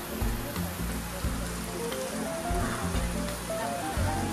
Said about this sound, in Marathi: अचानक पाऊस सुरू झाला